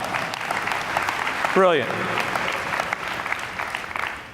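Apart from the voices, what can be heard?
audience applause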